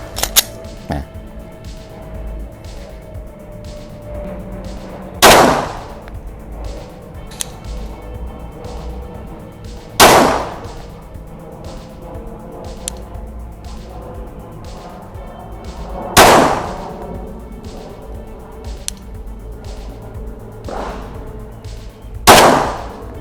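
Glock 17 pistol fired at a shooting range, four sharp loud shots spaced roughly five seconds apart over a steady background of ticking and rustle.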